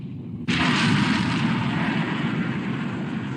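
Naval guns blast in the British black-and-white war film Sink the Bismarck: a sudden, loud broadband roar that holds and slowly rolls off over several seconds, with no voices heard.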